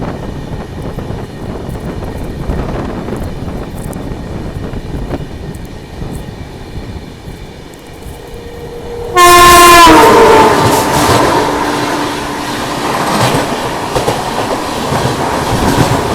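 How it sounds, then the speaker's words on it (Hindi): A passenger train crosses close by in India, announced by a sudden loud horn blast, then the rushing roar and rhythmic clatter of the passing coaches continue steadily. "अब ये ट्रेन से हमारी क्रॉसिंग होने वाली है।"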